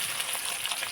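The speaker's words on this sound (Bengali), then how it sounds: "তেল দিয়ে দিলাম প্রথম কাঁচা ঝাল। এবার দেব পেঁয়াজ" Onions hitting hot oil with green chili sizzle and fry steadily, a continuous bright crackle that holds even across the full second with no voices.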